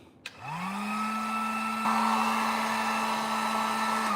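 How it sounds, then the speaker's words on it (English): A small heat gun warms vinyl wood-grain trim on a 1968 C10 glove box lid: a click, then a steady, close, whirring blower hum with a high whine that holds evenly to the end. "I come over here with this little heat gun."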